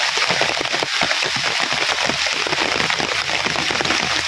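Heavy rain pouring steadily outdoors in an evening downpour at a village home, a dense continuous hiss of drops hitting surfaces, loud and unbroken with no voices.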